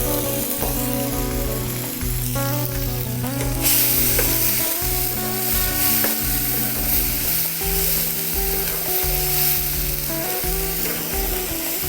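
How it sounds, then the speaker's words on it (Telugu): A paste of garlic, green chilli and onion sizzles steadily with spices in a pan for a raw-banana fry, a continuous loud crackle with occasional stirring and music playing underneath. "వెల్లుల్లి, పచ్చిమిర్చి, ఉల్లిపాయ పేస్టు, మసాలా దినుసులు వేసుకొని బాగా వేగదాకా"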